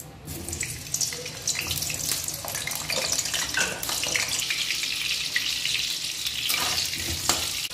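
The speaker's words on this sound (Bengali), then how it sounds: "আলুটা আমি ভেজে নিচ্ছি।" Potatoes frying in hot mustard oil in a kadai for a chicken curry, a loud continuous rushing sizzle that stays close and steady throughout, with occasional clinks from stirring.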